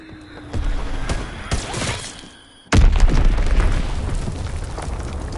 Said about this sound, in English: Bomb incoming! Get to cover!